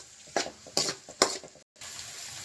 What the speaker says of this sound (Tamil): இப்போ அதெல்லாம் எண்ணெயில் நல்லா ஃப்ரை பண்ணி விட்டுக்கலாம்